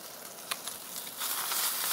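Green onions char in a hot pan with a steady, close sizzle and faint crackles, growing slightly louder toward the end.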